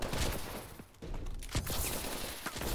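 Gunfire crackles through a Call of Duty Advanced Warfare multiplayer match, with dense overlapping bursts and rapid shots that continue almost without pause, loud and busy, with no talking.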